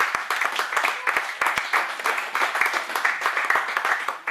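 A church congregation applauding during a worship service, continuous mid-distance clapping with a steady, slightly rhythmic patter over a room-filling wash of hands, no clear talk on top.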